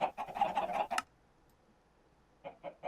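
Chickens clucking on a chicken XP farm in the Minecraft video game: a quick run of short clucks, a second of near silence, then three more clipped clucks, fairly quiet, with no talking.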